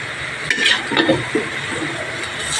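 Pork adobo sizzling in a pan while a utensil stirs it, with scraping clinks and a constant frying hiss, loud and close.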